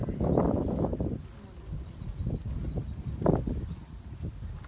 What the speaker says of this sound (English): We'll bring the gray horse through.